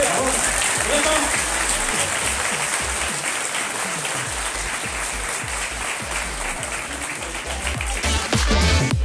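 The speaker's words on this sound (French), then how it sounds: "on l'applaudit bien fort, s'il vous plaît" Loud, continuous crowd applause at a Comic Con convention in Paris, a dense wash of clapping with voices mixed in, swelling slightly near the end.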